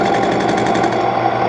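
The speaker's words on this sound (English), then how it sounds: "I'm just going to chamfer the edges of it a little bit" A K&T milling machine chamfers the edges of a metal workpiece, giving a steady, loud machining drone with a buzzing, pulsing texture that runs evenly throughout and is heard alone.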